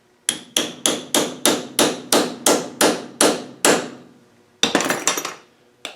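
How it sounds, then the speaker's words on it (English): A hammer tapping a seal into place through a 3/8 socket during an LT230 transfer case rebuild: about ten sharp, evenly spaced metallic strikes close up, then a brief cluster of quicker hits after a short pause. "We'll push that down and then we'll tap that seal in."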